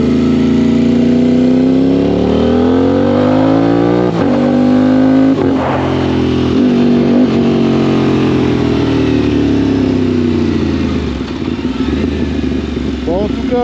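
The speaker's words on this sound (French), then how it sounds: "je vais vous faire une petite accélération quand même" An Aprilia RS660 motorcycle engine revs close and loud, climbing and falling in pitch through several throttle blips, then settling near the end.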